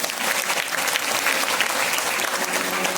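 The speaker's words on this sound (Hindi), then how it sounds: "जोरदार ताली बजाइए उसके लिए।" Church congregation at a New Year meeting breaks into loud, sustained applause, a dense wash of many hands clapping evenly with no pause for the full three seconds.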